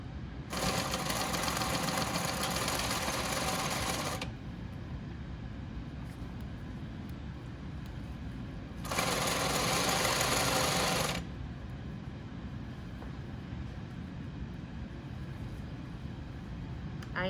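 Sewing machine stitching a 5/8 seam across a shirt cuff in New York Yankees print fabric, two steady bursts of rapid stitching of about four and two seconds, separated by a quiet pause, with no talk.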